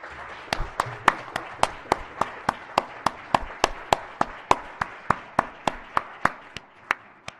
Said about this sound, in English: let's give Major General Linda Singh a huge round of applause